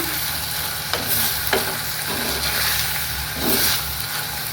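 Watermelon rind being stirred in a frying pan, a low continuous sizzle with a few sharp spatula scrapes and knocks against the pan, close and fairly loud, over a faint steady background hum.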